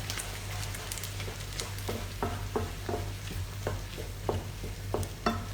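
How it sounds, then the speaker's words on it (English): Stock and grains stirred through about 125 ml of water in a pot, giving a steady soft bubbling bed with repeated light scraping clicks from the utensil, close and moderately quiet with no talk. "just stir it around a bit so that your stock pot dissolves in the water"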